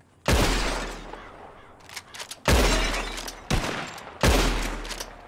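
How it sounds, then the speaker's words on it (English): Revolver shots shattering glass bottles during a shooting contest in Red Dead Redemption 2: three loud sharp cracks spaced about two seconds apart, each trailed by tinkling breaking glass and smaller impacts. "Whoever shoots more of these bottles wins."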